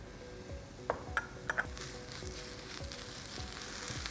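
Spinach sizzles with mushrooms in a hot heat-retaining pan over medium heat, a steady soft crackle broken by a few bright clinks of a utensil on the pan, close and low in level, with no talking.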